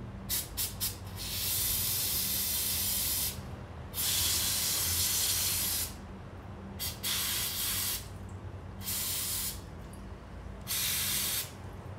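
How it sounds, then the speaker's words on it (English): Carb cleaner sprays in loud hissing bursts onto the oil screen of a Husqvarna FC450 dirt bike, several long blasts separated by brief pauses, close up and without talk. "Looks pretty clean, not too much debris. And then again, just carb cleaner."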